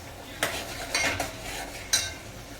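A spoon stirs a paste of onion, coconut, garlic and coriander frying in oil in a pan for Solapuri chicken, giving a few sharp metal clinks over a soft, steady sizzle with no talking.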